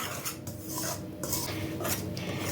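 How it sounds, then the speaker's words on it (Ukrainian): Flour being stirred into a thin batter for a quick rolled sponge cake, a spoon or whisk scraping and clinking against the bowl in short repeated strokes, close and moderately loud. "Тепер додаємо борошно і все гарно розмішуємо."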